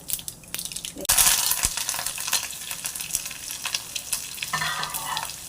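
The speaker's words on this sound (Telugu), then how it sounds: "పోపు వేగిపోయింది" Mustard seeds, cumin, chana dal and urad dal sizzle and crackle steadily in oil as tempering, with a sharp burst of spitting near the start and a scrape of stirring later on.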